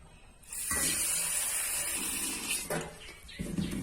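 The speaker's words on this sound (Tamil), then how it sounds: "இப்போ இதையும் தண்ணி ஊற்றி நல்லா கழுவி எடுத்துகிட்டு வந்துடலாம்" Freshly picked mint leaves rinsed under running tap water in a kitchen sink, a steady close splashing stream that shifts in tone as the leaves are moved through the flow.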